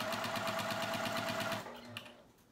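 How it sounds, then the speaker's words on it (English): A sewing machine runs a quick rhythmic stitching burst while backstitching the edge of a baby quilt, evenly pulsed and close, then slows and stops with a small click before a quiet tail. "I'm going to start a little bit off the project, and I'm going to backstitch just a little bit."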